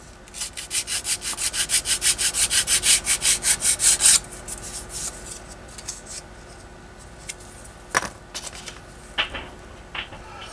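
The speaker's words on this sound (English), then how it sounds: "I'm going to finish sanding this pot here and take about a 5-minute break." A pot is sanded by hand in steady rhythmic strokes, about twenty quick rasping passes over four seconds, then a few scattered scrapes and rubs follow in a quiet room.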